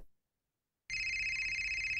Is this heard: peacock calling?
no